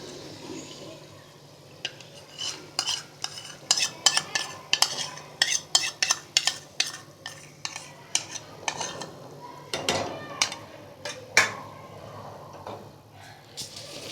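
Yogurt stirred into an Afghani chicken karahi with a metal spoon, giving a run of sharp, irregular scrapes and clinks against the pot over a low sizzle, close and fairly loud.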